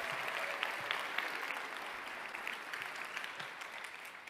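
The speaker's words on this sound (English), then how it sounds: "can we have a round of applause for the YPI conference today?" An audience at the YPI National Event 2022 conference claps in a sustained, dense round of applause, steady and fairly loud with scattered sharper claps.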